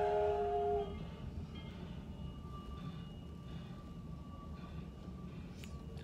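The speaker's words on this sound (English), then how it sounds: "the train is going right by us right now." A train rumbles past at a moderate distance with a steady low roar and faint rattling. A brief tonal hoot sounds at the very start.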